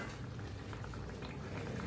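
A pot of snakehead fish curry with potato and pointed gourd simmers, giving a soft, continuous bubbling that stays faint and steady throughout.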